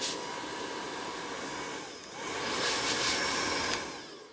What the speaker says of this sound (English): just wanted to blow the dust off